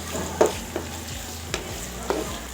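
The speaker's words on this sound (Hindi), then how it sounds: "जितना भी चिकन आपने डालना है उस हिसाब से इसमें चिकन डाल लें और इसको भी हम इसके साथ ही भूनेंगे।" Chicken pieces fry in a pan with ginger and garlic, a close, steady sizzle broken by several sharp scrapes and clinks of a spoon stirring.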